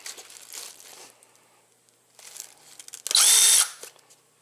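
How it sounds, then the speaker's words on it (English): A Milwaukee M12 Fuel 3/8 inch electric ratchet runs in a few short bursts, light whirring between quiet gaps and then a louder, harsh whine near the end, alongside some crinkling handling noise. "Fuel 3/8 inch electric ratchet."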